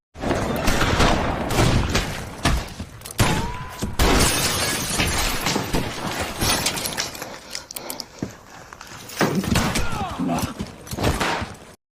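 A glass window shatters as a man crashes through it during a cowboy film fight, a loud burst of breaking glass followed by scattered tinkling debris, thuds and gunfire-like impacts across a busy action scene.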